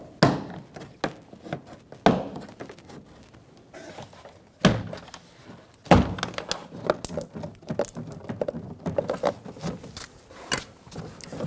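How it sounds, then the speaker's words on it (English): A plastic trim tool pries the door card off a 2003-2008 Subaru front door, giving sharp clip pops and knocks at irregular intervals, close and fairly loud, with scraping and handling noise in between. "Using a plastic trim tool, we're going to go around the door card, popping up all of the clips."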